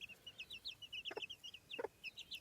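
Baby chicks peep in a rapid, continuous stream inside a chicken tractor on a hillside, with two soft low clucks from the mother hen breaking in, close and quiet with no talking.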